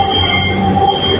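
Dhaka metro rail train running, heard from inside the car as a loud steady rumble with a high sustained wheel squeal on the track.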